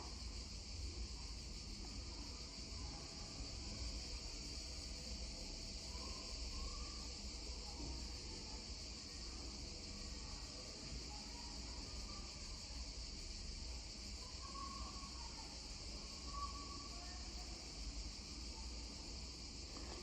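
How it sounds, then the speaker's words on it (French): Cicadas sing outdoors on a hot day in a continuous, even drone that stays faint and unbroken throughout, with no talk over it. "je ne sais pas si vous entendez les cigales chanter."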